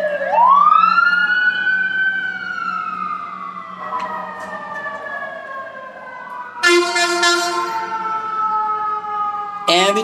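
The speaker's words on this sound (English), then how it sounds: "Ambulances, fire truck peepers, police peepers." Emergency vehicle sirens wail and sweep in rising and falling tones, one fading as another cuts in sharply, fairly close and loud over a low background hum.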